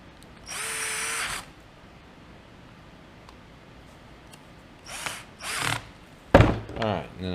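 Short bursts of a power driver running little screws into a fitting, one longer whir near the start and several brief ones near the end, close and fairly loud with quiet pauses between.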